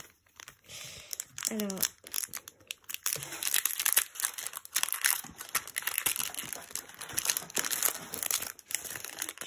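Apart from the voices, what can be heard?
Flesh and Blood card booster pack being torn open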